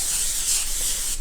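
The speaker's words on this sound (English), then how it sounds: "So what I do is I spray the aluminum foil." Cooking spray hisses onto a sheet of aluminum foil while meatloaf is being prepared, one steady close-up burst lasting just over a second before cutting off.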